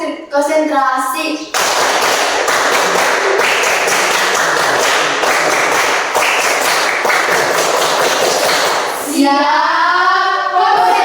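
A classroom group claps together in a quick, steady concentration-clap rhythm, loud and close, for several seconds, with a teacher's voice calling out briefly at the start and again at the end.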